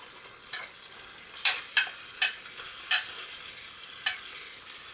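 Ginger garlic shrimp with their juices frying in a hot pan, a steady close sizzle broken by several sharp stirring clicks.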